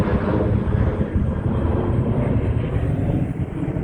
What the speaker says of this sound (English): There's a lot of planes flying over.